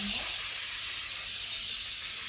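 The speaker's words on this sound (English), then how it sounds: "Now we're gonna go in some setting spray. This is the Morphe Continuous Setting Mist." Morphe Continuous Setting Mist is sprayed from a close, fine-mist bottle, giving one steady, airy, bright hiss that holds evenly for a couple of seconds.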